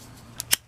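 Two quick, crisp snips of scissors cutting a V into the end of a ribbon for a boutique hair bow, close and alone in a quiet room.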